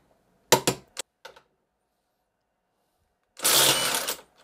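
A Villager VPL 8420 impact driver loosening a bolt gives a few sharp mechanical bursts, then falls silent, then hammers in a loud rattling impact burst for about a second, close by and alone.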